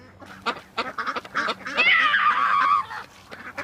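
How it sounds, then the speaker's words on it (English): Waterfowl at a duck pond honk and quack in a loose series of close, loud calls, building into a longer, wavering squawk before trailing off into scattered honks. "some of the cousins wanted to go feed the ducks."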